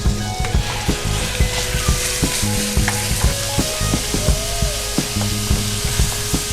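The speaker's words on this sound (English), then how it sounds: "we're going to brown our beef" Ground beef browns in about two ounces of melted butter in a hot pan, giving a loud, steady sizzle and fry with repeated scraping and stirring knocks of a utensil against the pan throughout.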